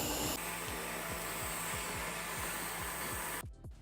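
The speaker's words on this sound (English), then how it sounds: "As soon as our D-Bot X1 detects the rug, it goes ahead and changes its suction power to enhance the cleaning technology." A D-Bot X1 robot vacuum running on a rug, a loud steady whirring suction roar with a faint regular ticking underneath, cutting off abruptly near the end.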